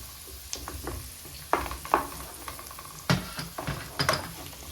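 Onions, meat, bones and tomato paste sautéing in a pan for a sauce, with a steady low sizzle broken by several sharp stirring scrapes and clinks, close and moderately loud, no talk.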